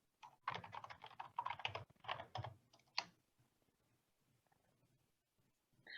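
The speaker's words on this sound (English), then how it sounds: "I can type my question." Rapid bursts of typing on a computer keyboard during a lecture Q&A, close and fairly quiet, clustered in the first three seconds and then trailing off into near silence.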